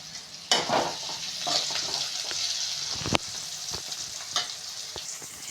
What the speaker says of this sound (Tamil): இந்த வெங்காயம் வதங்கணுன்னா லைட்டாக சால்ட் போட்டுட்டு வதக்குங்க